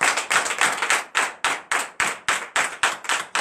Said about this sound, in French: Donnez encore plus d'acclamation au Seigneur Jésus.